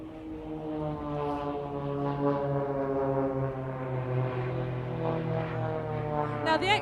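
Blades Extra 300 aerobatic aircraft flying down the display line at an RAF Waddington airshow, its propeller engine droning with a steady, buzzing harmonic tone that rises slightly in pitch, moderately distant, with a sharp noise burst at the end.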